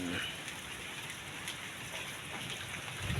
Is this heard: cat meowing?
no